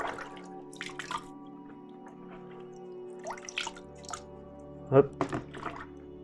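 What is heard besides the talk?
rinsing an Aquael Versamax mini filter sponge in water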